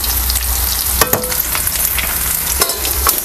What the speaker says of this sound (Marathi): त्यामुळे असं आपल्याला पलटी करून करून आहे ना सगळी बाजून आहे ना चांगलं असं हे तळून घ्यायचं.